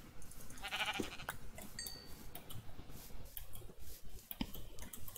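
Sheep bleating inside the Minecraft video game, a nasal bleat near the start over a busy backdrop of game sounds and clicks, with a few short tones later.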